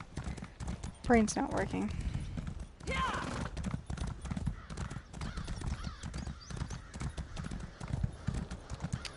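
Video-game hooves clip-clop steadily alongside a horse's whinny in The Elder Scrolls Online, with someone talking over the sounds.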